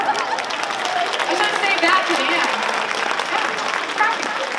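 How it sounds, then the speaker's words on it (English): Steady applause from an audience runs throughout, with someone speaking over the clapping. "Go ahead, clap."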